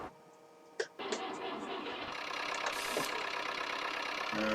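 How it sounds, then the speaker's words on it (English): A seed drilling tractor's engine idles and chugs steadily at moderate volume in a farm setting, with a few clanks near the start. "So we will get our seed drilling tractor out."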